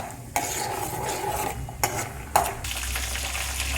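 Tempering frying in hot oil while being stirred for bisibelebath, a close sizzle with a few sharp scrapes and clinks of a spoon against the pan, and no talk.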